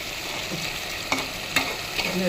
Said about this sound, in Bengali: গোলমরিচের ফাঁকি জিরা দিয়ে ভেজে রান্না করলাম